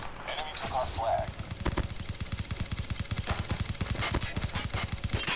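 Automatic gunfire in Call of Duty Mobile rattles out in long, evenly spaced bursts of close, loud shots that continue almost without pause.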